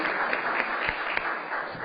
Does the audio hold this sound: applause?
yes